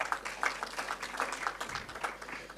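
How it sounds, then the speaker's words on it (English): Audience at a high-level policy panel discussion claps for a panelist joining the table, scattered, moderately distant clapping with irregular rhythm that lasts a couple of seconds. "You can clap for her."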